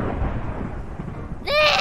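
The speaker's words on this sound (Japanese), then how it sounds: "雷鳴ってるよ。" Thunder in the video game Minecraft rumbles low and steady for over a second, then a bright, ringing sound effect bursts in loudly at the end; no talking is heard.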